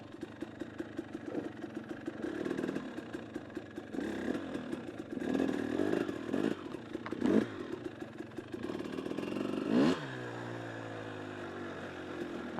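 A motorcycle fitted with ice studs rides across solid ice in winter, its engine note rising and falling steadily with a brief louder burst near the end before settling into a smooth steady tone.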